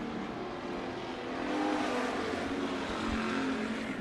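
Race cars at Bakersfield Speedway run side by side down the back straightaway, a steady, fairly distant engine roar that swells slightly midway and holds without talk.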